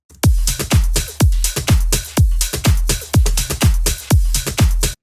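A looping drum pattern of deep, punchy tom hits widened with a Haas effect, repeating in a steady rhythm, each thump ringing briefly before the next, with no voices.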